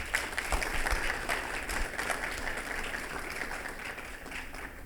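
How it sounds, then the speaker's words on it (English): Conference audience applauds a contestant, a steady wash of clapping from a moderately sized crowd heard somewhat distant and quiet, continuous throughout with no talking. "So everybody give Darryl a round of applause"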